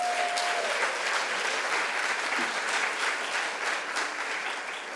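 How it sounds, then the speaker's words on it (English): An audience at a business plan competition finals gives dense, sustained applause, steady and even throughout with no talk. "So let's go ahead and applaud that, please."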